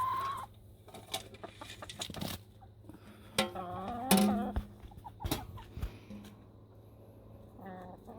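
Chickens cluck intermittently nearby, with short squawks and bursts of clucking scattered over a low background hum.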